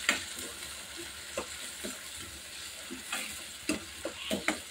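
Chopped medium tomatoes softening in a hot pan for homemade pani puri, a low steady sizzle under occasional spoon scrapes and stirring taps, close and quiet with no voices.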